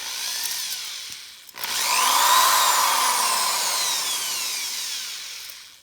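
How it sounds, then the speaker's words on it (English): Power drill boring out the rivet of a Hot Wheels die-cast toy car, a short whir then a loud, steady high-pitched grinding as the bit bites into metal, lasting several seconds close up. "First time drilling out."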